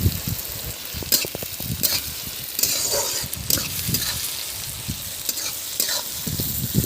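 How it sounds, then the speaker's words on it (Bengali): Sliced onions sprinkled with a little salt fry in a pan, a loud, close, continuous sizzle broken by repeated scraping stirs of a spatula, with no speech. "পেঁয়াজের ওপরে আমি অল্প করে নুন দিয়ে দেব, যাতে পেঁয়াজটা তাড়াতাড়ি সেদ্ধ হয়ে যায় এবং ভাজা হয়ে যায়।"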